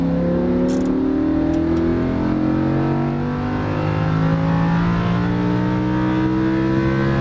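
A Lamborghini Huracan on a racetrack accelerates hard, its engine note climbing steadily through rising harmonic sweeps, loud and continuous for the whole stretch with no voices.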